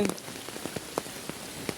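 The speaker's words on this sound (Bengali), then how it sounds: "সব ডুবে যাচ্ছে আমাদের বৃষ্টি সব ডুবে যাচ্ছে" Steady heavy rain falling on a hard surface in a flooding area, with scattered sharper drops and splashes standing out over a continuous hiss; no voices.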